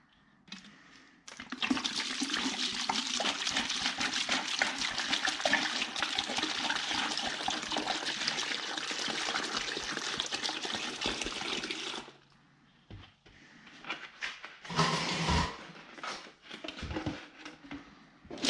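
Full Metal Jacket trap dip pours into a bucket as a steady, close liquid rush lasting about ten seconds, followed by a few short splashes and trickles, with no talking.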